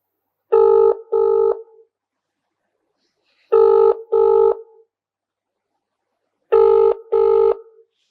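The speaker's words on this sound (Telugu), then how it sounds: "ఒకసారి మా ఫ్రెండ్కి అయితే నేను కాల్ చేస్తా." A phone call rings out in repeated double-burst tones, three pairs spaced evenly apart with silence between them, loud and clear with no voices.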